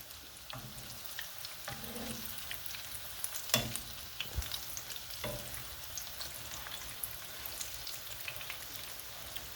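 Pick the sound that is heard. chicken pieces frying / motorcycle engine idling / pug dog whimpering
chicken pieces frying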